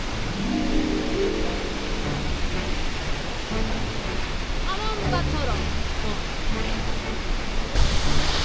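A huge waterfall at Yosemite thunders as a dense, continuous rushing roar with no break, and faint voices are heard faintly behind it.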